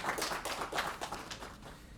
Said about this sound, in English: So applause for that.